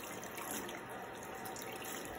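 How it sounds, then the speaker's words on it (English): Steady running water from a tap pours continuously into a sink, a constant hissing splash with no voices. "So first we're going to turn on the water."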